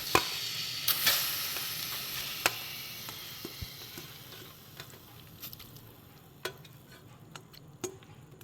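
Prawns frying in oil in a cheenachatti, a deep iron pan, while a spicy prawn pickle is being made. A soft, steady sizzle runs throughout, broken by occasional light stirring clicks and scrapes, close and fairly quiet.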